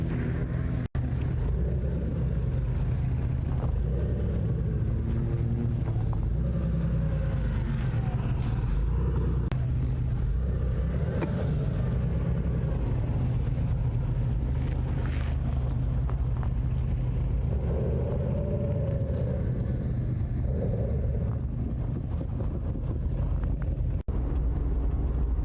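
BMW M5 driving on a rough, poorly kept ice race track in cold winter conditions, a steady engine drone with wind buffeting throughout, continuous and moderately close, no talk over it.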